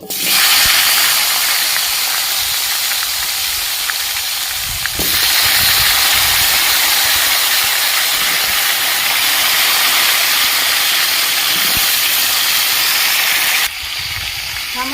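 Vegetables frying in a pan for a Bengali fish curry, a loud steady sizzle and hiss that runs throughout with a couple of brief shifts in level.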